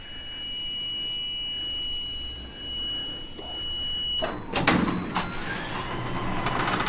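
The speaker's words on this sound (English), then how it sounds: "The door's closing, and it should change to closing for the status." A Ryobi garage door opener closes the door, starting with a sharp clack and then a steady mechanical rumble of the moving door. Before that a faint steady tone is heard.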